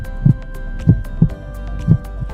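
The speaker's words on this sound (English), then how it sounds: "Okay, enough with the heartbeat." A steady heartbeat sound effect throbs with deep, low thumps, loud and close, in a slow irregular rhythm over a faint hum.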